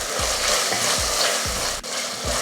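A small tomato sautés with onion and ginger garlic paste for goat head curry, giving a bright, close sizzle with several rhythmic stirring knocks in quick succession.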